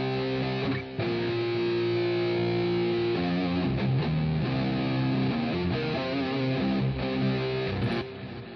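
A distorted electric guitar, its distortion from a Guitar Rig 4 setting, plays alone, thick and sustained, moving between held chords and choppier riffing at a steady loud level.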